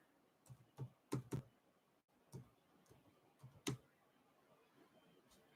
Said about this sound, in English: Here, I'm going to type it in real quick